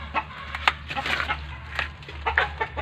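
Chicken clucking in short, fairly faint bursts against a steady low hum, with no talk over it.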